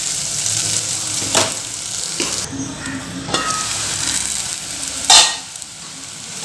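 Ginger garlic paste frying in a pan for chicken curry, a steady close sizzle with several sharp stirring scrapes and clatters of a spoon against the pan.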